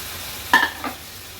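Pink perch pieces drop into hot masala for an Agri-Koli style curry, setting off a short sharp sizzle, then a second smaller hiss, over a quiet low background.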